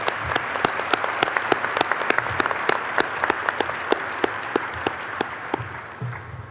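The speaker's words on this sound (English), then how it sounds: "give them a round of applause" Applause at a graduation commencement ceremony, a steady patter of many hands with a few sharp, distinct claps standing out near the front, tapering slightly at the end.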